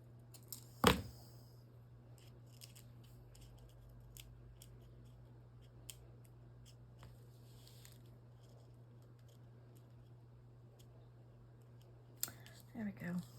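A single sharp snip of scissors near the start, then quiet room hum, with a few faint clicks and a brief rustle near the end.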